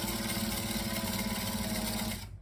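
A sewing machine running fast as it stitches fabric: a loud, close, continuous buzzing whir with a rapid steady rhythm that cuts off abruptly at the end.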